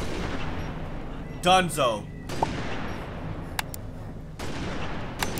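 Gunfire aimed at Elites in the shooter Halo: Reach, a few sharp weapon shots with explosive bursts and a whistling projectile, close and punchy, with someone talking over part of it.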